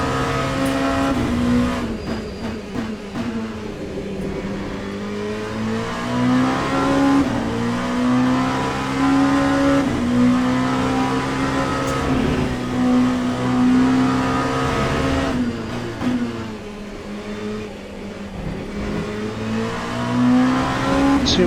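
Big, long LMP2 prototype race cars lapping Bahrain in the racing game Le Mans Ultimate, a loud steady engine drone rising and falling through gear changes, with other cars' engines layered behind, no talk.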